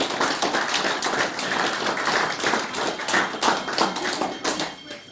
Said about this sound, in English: big round of applause for Huck Richards, the gentleman that played the guitar and gave us the entertainment stage